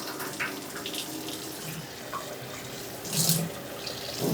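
Tap water runs steadily into a sink while rice is rinsed, a continuous close hiss and splash with brief bursts of louder splashing as the grains are swished.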